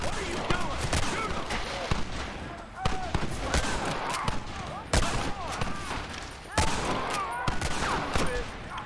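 Repeated gunfire rings out in a Red Dead Redemption shootout, sharp shots cracking in irregular bursts with several loud reports, over a busy battle backdrop with voices talking.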